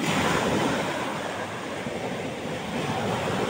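Strong sea waves and gusting wind around a small fishing boat out on the water, a loud, steady roar of surf and wind buffeting the microphone with no break.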